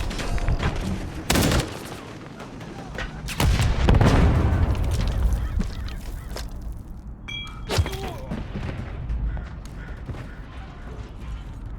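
Gunfire in the video game Modern Warfare 3, a few loud booming shots and thuds among mechanical clatter and steady in-game background noise, with no talking.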